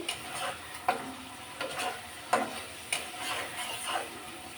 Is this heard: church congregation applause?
no